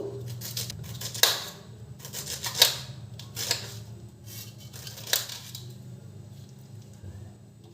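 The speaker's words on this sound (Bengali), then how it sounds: "খুব পাতলা পাতলা করে আনারসটাকে আমি কাটবো" A knife slices a pineapple very thinly, making four or five crisp, sharp cuts at uneven intervals over a quiet background, with no talking.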